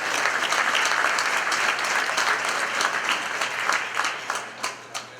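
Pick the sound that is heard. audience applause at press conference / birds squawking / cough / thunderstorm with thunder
audience applause at press conference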